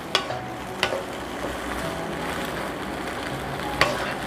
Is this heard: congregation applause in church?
no